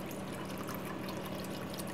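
Drinking water pours into a container in a steady, unbroken rush, close and even in level from start to finish, with no voices over it.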